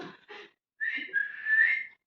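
A woman whistles to call her cats, with two short breathy chirps followed by a longer, shrill, steady whistle that gently wavers, close and alone.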